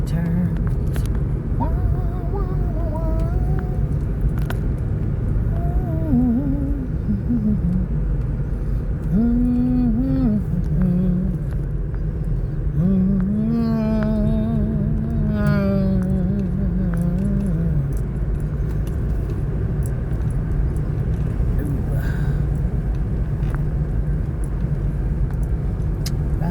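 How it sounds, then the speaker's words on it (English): A car rumbles steadily from inside the cabin while driving, and a voice sings or hums over the road noise. "Riding around in my automobile"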